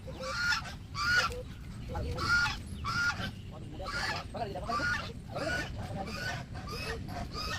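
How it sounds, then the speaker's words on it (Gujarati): Ducks along a roadside between Ahmedabad and Sanand call in a series of loud, nasal honking bursts, repeating roughly every half second, with a person talking faintly underneath. "આ બતક તો કઈ રીતની એમનો અવાજ છે તમે જુઓ"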